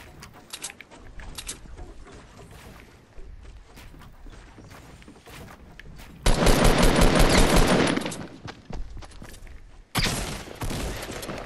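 Fortnite pump or tactical shotgun fire in a video game fight, with sharp loud blasts arriving in two bursts among lighter scattered clicks and thuds, no talking.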